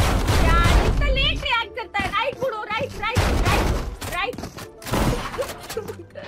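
Rapid bursts of gunfire in the video game Valorant crackle and pop through the clip, with excited voices talking over and between the shots.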